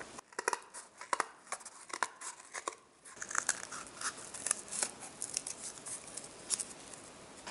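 Scissors cutting through paper or thin cardboard for a craft project at home, a run of crisp snips and slicing strokes, close up and alone with no talk, the cutting growing busier and more continuous partway through.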